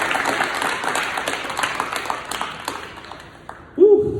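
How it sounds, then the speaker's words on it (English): At a middle school leadership ceremony, an audience claps for an absent student in a steady round of applause that fades, followed by a loud voice close to the microphone. "can you guys clap it up for Amir in his absence, please?"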